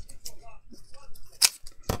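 Scissors snip through foam craft pads in two sharp, close cuts, with quieter handling sounds before them.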